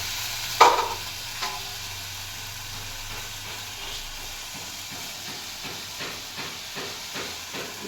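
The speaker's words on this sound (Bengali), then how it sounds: "জল দিয়ে দিলাম মিক্সারে বাটিটা দিয়ে" Water poured into a hot pan of ginger, garlic and chili paste brings a sharp clank and then a steady, close hiss of sizzling and steam, with faint soft taps later on.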